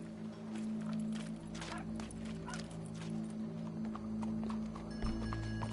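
Horse hooves clip-clop in an uneven walking rhythm over a low steady hum in the video game Red Dead Redemption 2, moderately close and fairly quiet.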